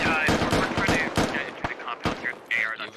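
Rapid gunfire in the military shooter video game Squad, bursts of automatic shots cracking in quick succession, then scattered single reports, close and loud with voices mixed in.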